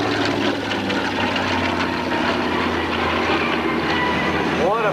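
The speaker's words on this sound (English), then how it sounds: "Okay, Navy Stearman coming by." A vintage Navy Stearman biplane passes at an airshow, a loud continuous propeller and engine drone with broad rumbling noise filling the whole stretch, close and steady.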